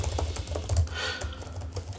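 Fast typing on the keyboard of an Asus ROG Zephyrus Duo 16 gaming laptop, a steady run of close, crisp key clicks with no talking.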